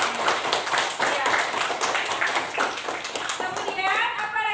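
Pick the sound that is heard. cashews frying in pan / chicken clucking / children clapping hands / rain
children clapping hands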